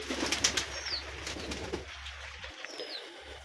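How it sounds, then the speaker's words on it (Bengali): Pigeons kept in a loft coo softly in the background, with a couple of faint higher calls over a low hum and no talking. "আমার লফটে যে কবুতরগুলো রয়েছে"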